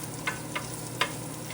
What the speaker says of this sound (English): We're just going to let that sizzle a minute.